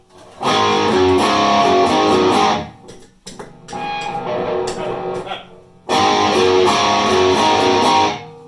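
An electric guitar played through a BOSS SD-1 overdrive pedal rings out loud and close in three gritty, sustained strummed passages separated by brief pauses, with a thinner, quieter middle section.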